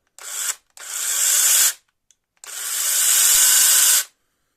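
A Lider cordless battery mini chainsaw fitted with an extension pole whirs loudly in three bursts, a short one, then a longer run, and after a brief pause a sustained one, with near silence between and no talk.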